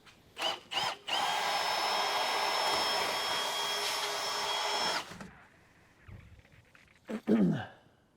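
A power drill punches a hole through metal on a turbocharged car's heat shielding, with a few short whirring bursts followed by a steady high-pitched grinding run of about four seconds. Clanks and handling noises come after it, close up.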